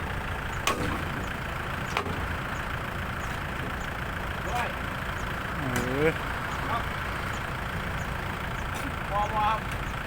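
A Fuso dump truck engine rumbles steadily with a deep idle, sending up a few brief rises in revs alongside faint chirps and sharp ticks, while someone talks close by.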